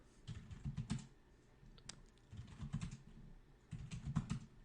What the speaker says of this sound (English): I can type this as many times as I want to